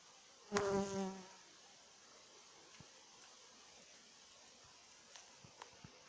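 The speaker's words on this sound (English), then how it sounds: "bees are doing pretty good" Honeybees at a backyard hive behind a home, with one loud, close buzz sweeping past for about a second, then a faint steady hum and a few soft ticks.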